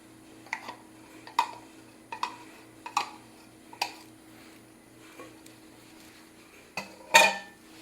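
Sourdough ingredients being stirred in a bowl give a quiet series of irregular clinks and scrapes at close range, ending with one sharper knock, over a faint steady hum.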